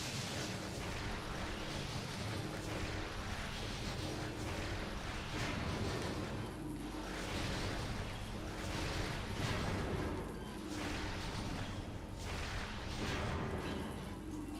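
Loud, dense barrage of turret fire in the video game Metroid Prime, booming blasts and bursts layered continuously for the whole stretch with no pause.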